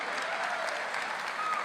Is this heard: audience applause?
yes